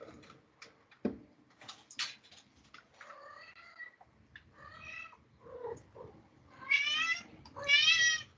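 A pet cat meows several times indoors, the calls growing louder and longer toward the end, with soft bumps and shuffling around them.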